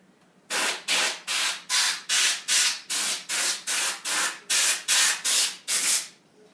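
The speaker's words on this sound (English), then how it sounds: "we'll squirt it again to make sure we've removed all the dust" Canned air blowing dust out of a computer, heard as about a dozen short, loud hissing bursts in a steady rhythm, close up and with no voices.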